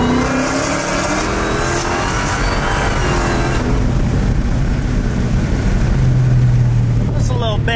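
A Dodge Demon or Hellcat accelerates on a short test run with a loud, continuous, close engine roar that holds steady and then shifts as the revs change, along with a voice over it.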